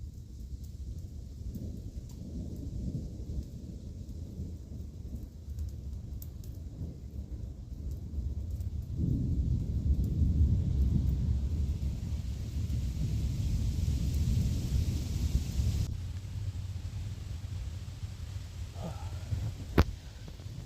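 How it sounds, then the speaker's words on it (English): Low rolling thunder from an approaching thunderstorm rumbles almost continuously over steady rain at an overnight stealth campsite, swelling louder midway, with a faint sharp click near the end. "Definitely hear the thunder getting closer."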